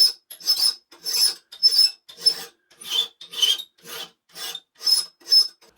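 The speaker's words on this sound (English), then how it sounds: "while I'm doing this, I'm trying to keep the file square to the edge" A hand file rasps along the edge of a homemade square clamped in a vise, in a steady rhythm of about a dozen close, even back-and-forth strokes with brief pauses between them and no talking.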